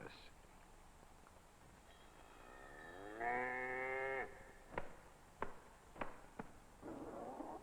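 A dairy cow on an Austrian farm lets out a single drawn-out moo, followed by several sharp knocks and thumps, with a faint voice near the end.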